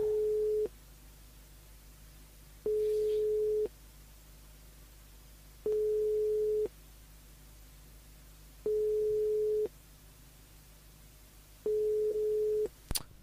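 A telephone line rings out unanswered during a live call-in radio broadcast, giving five evenly spaced long tone pulses of about a second each with pauses between, clear and steady, ending in a brief click.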